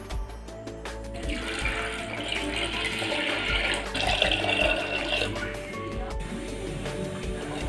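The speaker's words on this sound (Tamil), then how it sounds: "அரைச்சி வச்ச அரிசியை குக்கரில் போட்டு ஒரு அஞ்சு டம்ளர் தண்ணி ஊற்றி" Water pours steadily into a pressure cooker holding ground rice, a continuous splashing stream that swells midway, heard close up with faint background sounds.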